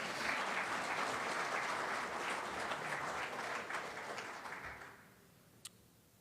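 An audience applauds at an annual installation ceremony, a full steady round of clapping that thins and fades out near the end, followed by a single faint click.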